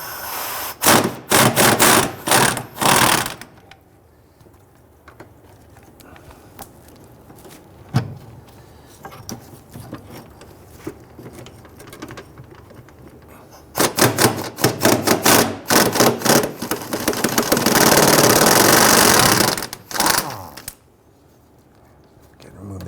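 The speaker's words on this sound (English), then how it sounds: "I'm going to use our 10mm socket to go ahead and get this bolt right here." Ratchet clicks from a 10mm socket loosening a fuel tank strap bolt under a 2006-2012 Toyota RAV4 3.5L V6, coming in two loud rapid bursts of clicking with quieter working noises between them.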